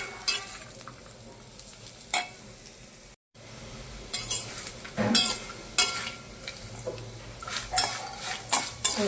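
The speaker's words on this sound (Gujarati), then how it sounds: "ગોટલી શેકાઈ ગઈ છે, અવાજ આવે છે ને" Mango seed kernels dry-roasting on low heat in a pan, with repeated scraping stirs and clinking of a spoon against metal, close and uneven, with a soft sizzle beneath and one brief dropout.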